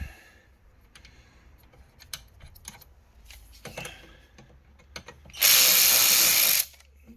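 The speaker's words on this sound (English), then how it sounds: "Take the nut off." Ratchet removing a nut during Mazda CX-9 water pump and timing chain work, with scattered metallic clicks and clinks followed by a loud burst of rapid ratcheting lasting about a second near the end.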